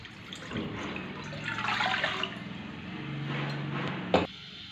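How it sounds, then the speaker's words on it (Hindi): Half a litre of water poured into a pan set on a stove, a steady splashing, trickling stream lasting several seconds, close by and moderately quiet, ending with a brief clunk. "इसके अंदर हाफ लीटर पानी डाल देंगे।"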